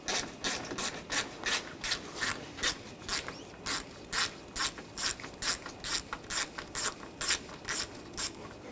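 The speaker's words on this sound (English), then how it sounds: "Using a 10mm socket, we're going to take these bolts out." A ratchet with a 10mm socket removes bolts during intercooler work on a 2013-2022 Buick Encore 1.4L, with quick, rhythmic clicking repeating steadily and close up.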